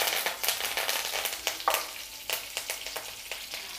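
Mustard seeds, cumin and curry leaves sizzle and crackle in a little hot oil in a steel kadhai, a steady frying hiss broken by rapid, irregular popping bursts, close and fairly quiet.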